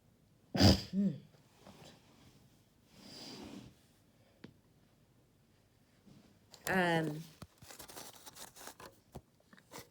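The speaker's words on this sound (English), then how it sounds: "Just feel sneeze coming." A sharp sneeze bursts out, then a sniffle and a throat-clearing sound, followed by quiet rustling and a louder breathy snort later on.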